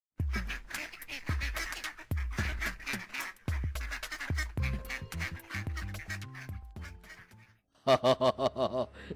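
Cartoon ducks quack in a short, rapid burst near the end, after a run of cartoon sound effects and music, loud and close.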